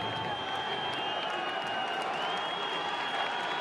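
Stadium crowd at a college football game, North Texas Mean Green at UTEP Miners, sending up a steady, distant roar of cheering and applause that holds evenly throughout with no break.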